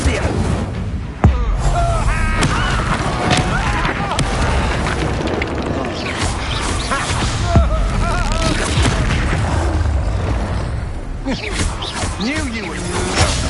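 Incendio fire spell cast in Hogwarts Legacy, a dense run of booming magical bursts and blasts layered over constant battle noise, with character voices speaking throughout.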